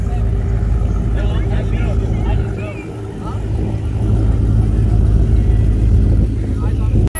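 A BMW M8 Competition and a Gen 3 Cadillac CTS-V with an LT4 engine roar loudly and steadily through an eighth-mile drag race, their engines heard over people talking nearby.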